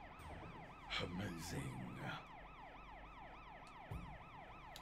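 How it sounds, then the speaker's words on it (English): A vehicle siren in the video game Sleeping Dogs wails steadily and loudly in a rising-and-falling cycle throughout, with a brief voice and some engine and street noise mixed in near the start. "Let's turn the old siren off."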